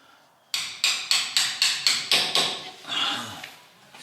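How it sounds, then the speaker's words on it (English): About eight sharp, evenly spaced hammer taps drive a wheel speed sensor into the rear hub of a BMW E90 318d, close and loud, ending in a softer scraping knock. "Just tapping in the wheel speed sensor."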